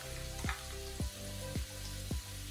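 Shrimp sizzle steadily in a pan while cooking for cheese-crusted seafood quesadillas, with a continuous close frying hiss and four evenly spaced sharp pops or spatters standing out.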